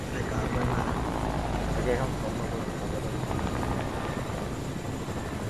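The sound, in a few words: helicopter in the video game Fortnite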